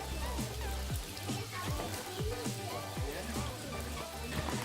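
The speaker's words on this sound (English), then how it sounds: "We're going closer to the waterfall now." A waterfall on the South Lawson Waterfall Loop, heard as a steady broadband rush of falling water with splashy, drop-like detail, continuous and fairly close.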